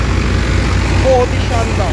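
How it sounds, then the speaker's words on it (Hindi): A tractor running at about 1500-1600 RPM in a farm field gives a steady, loud, low engine drone throughout, with a faint voice briefly heard over it. "ट्रैक्टर आप देख सकते हैं बहुत बढ़िया तरीके से चल रहा है"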